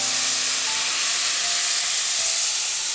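Coconut milk from two coconuts poured into hot broken wheat payasam, a loud, unbroken hiss of liquid hitting the simmering pan, close and continuous for a few seconds, with no voices.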